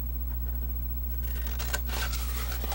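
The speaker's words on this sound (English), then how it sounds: "We're going to cut up on that score line." Paper for a handmade purse box is cut along a score line, giving soft, close snipping and rustling strokes that start faintly and grow denser and brighter toward the end.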